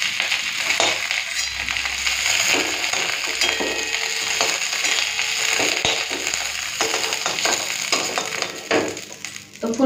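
Fried cauliflower lifted from hot oil in a kadai, with steady crackling sizzle and scraping ladle clatter running throughout, close and fairly loud.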